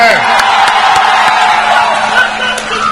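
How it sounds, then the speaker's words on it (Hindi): A large crowd at an outdoor political rally for Akhilesh Yadav, former Uttar Pradesh chief minister, breaks into loud sustained clapping and cheering, a dense wash of applause with scattered whoops and a steady hum underneath. "उत्तर प्रदेश के पूर्व मुख्यमंत्री श्री अखिलेश प्रसाद यादव जी का सबसे पहले एक बार जोरदार ताली से हम लोग स्वागत करते हैं"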